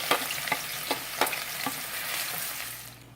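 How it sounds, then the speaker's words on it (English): Sliced onion hits hot oil and sizzles steadily, with a few sharp scraping stirs near the start before the frying hiss settles and fades toward the end. "So I have my oil heating up. I'm going to add my onion."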